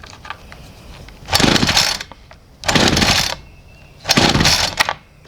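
A Homelite chainsaw at half choke being pull-started: three separate rasping bursts, each under a second, spaced about a second apart, close and loud, with no sustained running afterward.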